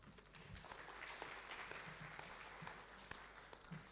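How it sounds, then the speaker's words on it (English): An audience at an art forum symposium applauds its moderator, a steady wash of clapping, fairly faint and distant, holding evenly without voices. "A big round of applause."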